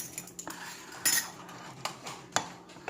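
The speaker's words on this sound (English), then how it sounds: "A little bit more stirring." A spoon stirs microwave fudge in a bowl, clinking and scraping against the dish in a handful of irregular metallic taps, close and fairly quiet with no talk.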